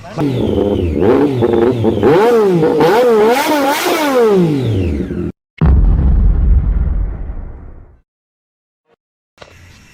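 Yamaha Vixion R motorcycle engine revving loudly and close, with rising and falling pitch sweeps over about five seconds, a brief cutoff, then a low rumbling idle that fades out.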